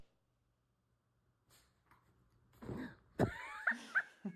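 A dog in a played-back video makes snorting, whimpering and yipping noises, faint at first and then louder in a cluster of short sharp vocal bursts near the end.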